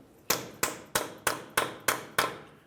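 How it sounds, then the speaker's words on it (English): Seven sharp metallic strikes of a hammer on a punch centered on an axle stub shaft of a 2005-2010 Dodge Dakota, freeing it from the wheel bearing, land in a steady, evenly spaced rhythm, each ringing briefly. "Continue with a hammer and punch directly in the center of the axle."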